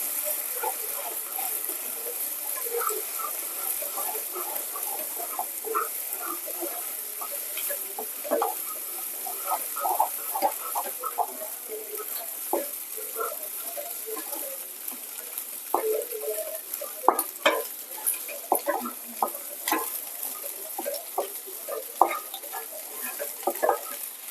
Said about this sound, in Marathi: अंडे थिजलेले आहेत आता आपण फोडून घेऊया